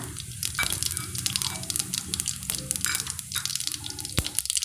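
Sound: mustard seeds and cumin added to hot oil

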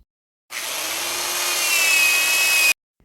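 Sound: rotary engraving tool drilling holes with a small drill bit

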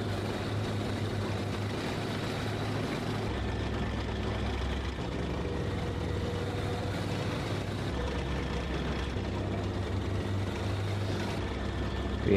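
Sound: Panther tank engine and tracks in a video game

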